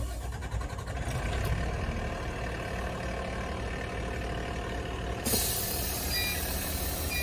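A Terminator Pumper fire truck's engine turns over and settles into a loud, close diesel rumble, with a sharp hiss of released air near the end.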